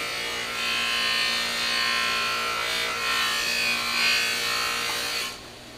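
A buffing wheel with polishing rouge works over a 1966 Ford Galaxie 500 hubcap, giving a continuous whirring, rubbing hiss with slight swells as the part is worked, then stopping near the end.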